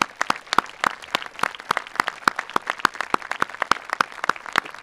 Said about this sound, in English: please stand and allow us to honor you with our applause